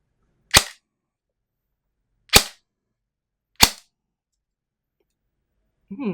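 A G&G ARP9 airsoft rifle dry-fires three sharp, loud single shots spaced about a second apart in a quiet room, followed by a faint brief rustle.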